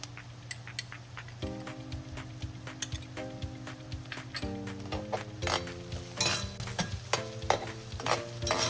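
White onions and spices fry in a pan for an Andhra-style chicken curry, with a soft continuous sizzle and repeated scrapes and clinks of a utensil stirring against the pan, close and alone without talk.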